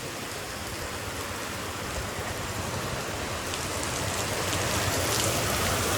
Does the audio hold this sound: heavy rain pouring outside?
yes